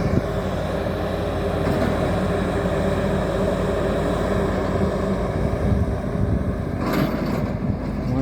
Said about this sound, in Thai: นั่นแหละหัวเจาะ